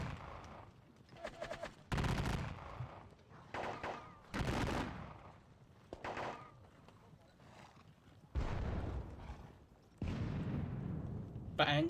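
Volleys of musket gunfire from a Napoleonic wargame crack out in several separate bursts, some sharp and brief, others rolling longer, with background battle sounds between them.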